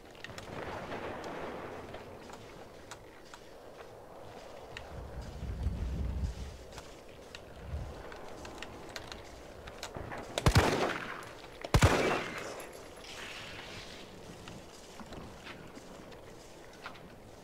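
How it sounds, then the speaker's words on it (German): Pistol shots in Resident Evil 3 Remake, two sharp cracks about a second apart rising out of a quiet, rumbling game ambience, with no talking over them. "Ich kann auf das Ding drauf schießen."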